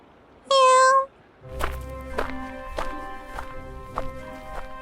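Black cat gives one short clear meow, followed by steady rhythmic footsteps walking away on a hard surface in a quiet village setting.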